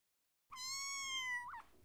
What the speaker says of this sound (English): a baby cat is called a kitten